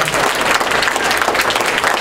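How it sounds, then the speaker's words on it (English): A comedy club audience at the Joke Joint claps for the next comedian, a loud, dense and steady burst of applause from many hands lasting the whole stretch without a break. "Start clapping your hands right now for your next meeting"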